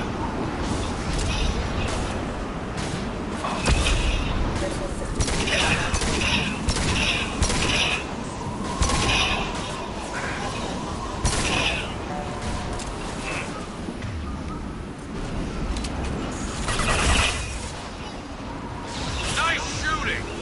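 Rapid bursts of video game gunfire crackle through a busy streamed shootout, sustained and loud with repeated impacts, mixed with game effects and occasional voice.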